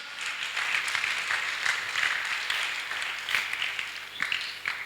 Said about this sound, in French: Un bravo pour ceux-là. Pour les sœurs. On acclame, on acclame.